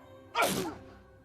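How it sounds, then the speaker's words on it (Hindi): A single sharp sneeze bursts out close by, loud and breathy, then trails off into quiet, with no talk around it. "मुझे छींक क्यों आई?"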